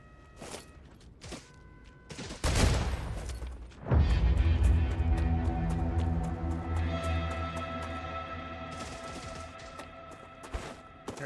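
Enemy fire in the StarRupture video game arrives as a few sharp cracks followed by heavy booming impacts and a long ringing metallic decay, heard loud and close.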